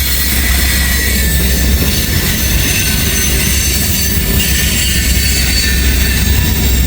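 A freight train of covered hoppers carrying potash rolls past close by, a loud, steady rumble of wheels on rail with broadband hiss, continuous and unbroken with no distinct clicks, and no voices.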